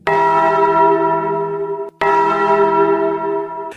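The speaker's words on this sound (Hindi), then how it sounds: "मंदिर की सारी घंटियां एक साथ बज उठी" Temple bells clang together in two loud, sustained strikes, each leaving a long ringing decay, used as a horror-story sound effect.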